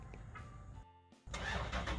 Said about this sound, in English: There it goes, the sound of the Hemi